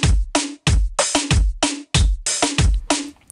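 Reggaeton drum pattern from the Bebecita preset of the Ujam Beatmaker Rico plugin, with punchy kicks and crisp snare hits repeating in a tight dembow rhythm, loud and alone.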